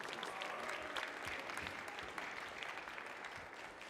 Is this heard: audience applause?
yes